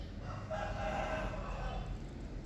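A Shamo rooster crows once, a drawn-out call of moderate loudness set against steady low background noise, with no talking.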